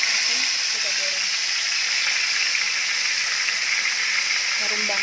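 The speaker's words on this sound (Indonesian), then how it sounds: "Ini ikannya, ini 1 kilo. Oke, kita masukkan. Pelan-pelan aja deh. Oke, kita goreng." One kilo of fish fries in hot oil with a loud, steady, close hiss and sizzle throughout, while faint voices murmur briefly near the start and end.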